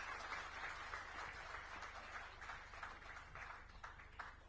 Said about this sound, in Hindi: मैं चाहूंगा जोरदार तालियों से स्वागत करें सम्माननीय श्याम बिहारी जायसवाल जी